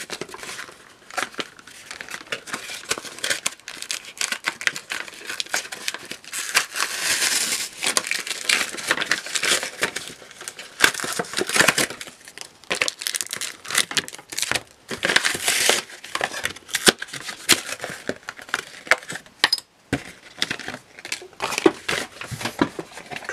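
Pokemon Steam Siege booster packs being torn open with cardboard packaging, a long run of close, loud crinkling, crushing and ripping foil and card, in dense irregular bursts with brief pauses.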